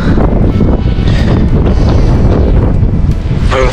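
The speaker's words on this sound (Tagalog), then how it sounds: "Taas ang hangin." Strong wind buffets a rocky seashore during a fishing trip, a loud, constant roar of gusts battering the microphone throughout, with no voices.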